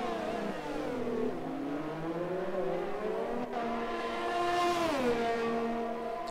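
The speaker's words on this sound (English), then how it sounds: "Yeah, Mercedes pitting. I think Mercedes, yes, Panda pulls into the pits" Formula 1 racing game engine at the Baku City Circuit, with a steady high-pitched race car whine that climbs and dips through gear changes, loud and continuous with no voices.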